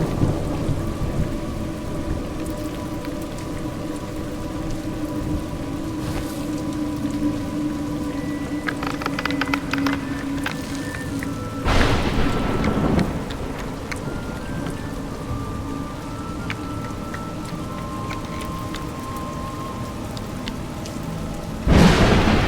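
Steady rainfall patters on surfaces in the A Juggler's Tale video game, with low rolling thunder and two sharp, louder thunder cracks breaking through the storm at intervals.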